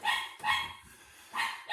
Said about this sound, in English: The yappy dog must be chasing the cat.